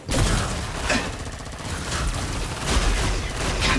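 A boss in Killing Floor 2 fires its guns in loud, rapid bursts of heavy automatic gunfire that keep going, close and dense, with impact crashes mixed in.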